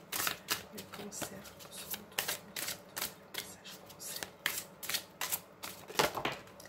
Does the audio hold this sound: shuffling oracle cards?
yes